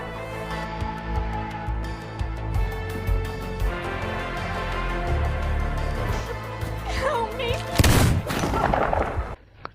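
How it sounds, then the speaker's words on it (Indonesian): A burst of film gunfire, a sharp loud crack with booming echo, breaks in near the end of a tense musical score with rumbling low tones, followed by a few fainter impacts. "Suara tembakan itu terdengar oleh sang detektif"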